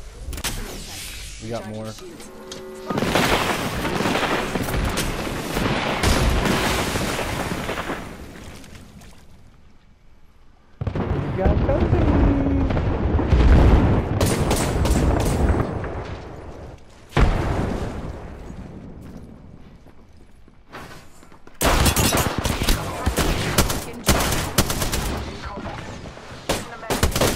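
Rapid bursts of gunfire and heavy shooting in the battle royale game Apex Legends, loud and close, arriving in several long volleys with short gaps, while players talk over the action.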